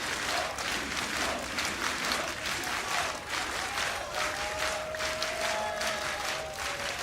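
A home crowd at a CS:GO esports quarterfinal in Katowice cheers and applauds, a dense, steady wash of clapping and shouting with a commentator's voice faintly underneath.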